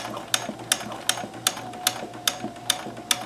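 A Kenmore 158.1914 Monogrammer sewing machine stitches a monogram on hooped fabric, producing an even run of sharp mechanical clacks at a quick steady rhythm over a low motor hum, close and clear.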